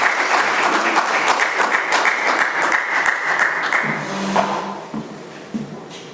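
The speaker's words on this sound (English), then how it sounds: "Let's have another round of applause for Jenica." Audience applause at an Alcoholics Anonymous meeting, steady and fairly close at first, then thinning into a few scattered claps toward the end.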